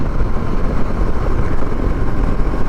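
A 2025 KTM Adventure 250 motorcycle cruising on a highway, producing a loud, steady engine drone blended with rushing wind noise and no letup.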